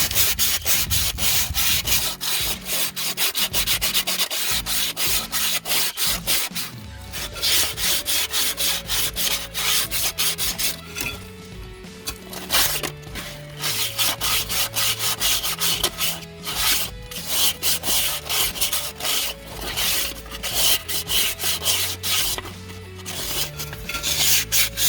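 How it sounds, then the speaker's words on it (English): Sandpaper rubbed hard against a rusty parking brake part on a 2011 Jeep Compass, a loud, continuous rapid scratching close up, with brief pauses and shifts in stroke speed. "So I'm going to grab some sandpaper. We'll clean out some of that rust in here."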